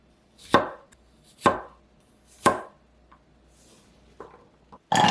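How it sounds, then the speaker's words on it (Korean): A knife chops through garlic cloves on a cutting board with three crisp, evenly spaced thuds, followed by a few quieter taps and a final louder knock, close and clear. "마늘은 반으로 잘라줄게요."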